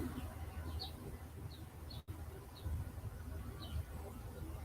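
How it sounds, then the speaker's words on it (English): Small birds chirp outdoors in short, faint, scattered calls over a steady low background hum, with a brief dropout midway and no clear talk. "And I can also hear the birds chirping."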